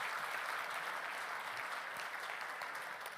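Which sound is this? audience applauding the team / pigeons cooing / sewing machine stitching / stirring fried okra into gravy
audience applauding the team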